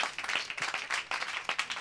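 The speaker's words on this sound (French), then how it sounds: "Je propose d'applaudir." Brief, scattered applause from a small audience at a French-language presentation event, a few hands clapping irregularly and fairly quietly with no talk over it.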